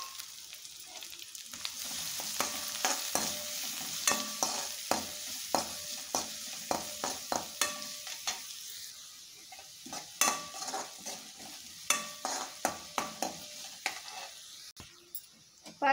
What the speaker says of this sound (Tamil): எண்ணெய் காஞ்சதும் வெங்காயத்தை போட்டு வதக்கிக்கலாம்.